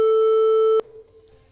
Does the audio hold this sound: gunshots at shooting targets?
no